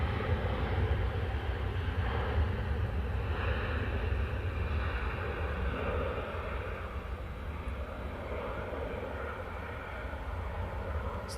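A jet airliner on final approach at Manchester Airport, a loud continuous engine roar with rushing wind noise, holding steady and easing slightly over about eleven seconds.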